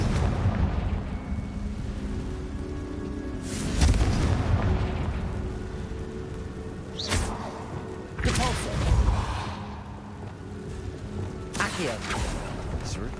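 Confringo fire-spell blasts in Hogwarts Legacy erupt as a few heavy booms spaced several seconds apart, with voices talking between and over them.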